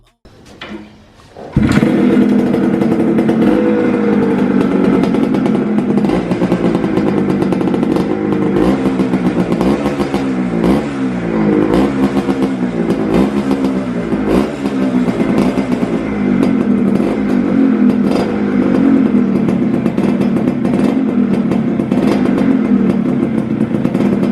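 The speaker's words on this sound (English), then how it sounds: "So you can see the motorcycle started in a single kick guys." A Suzuki Shogun motorcycle engine catches after a brief sputter from a single kick start and settles into a loud, steady idle, with rhythmic throbbing and occasional revving over about twenty seconds.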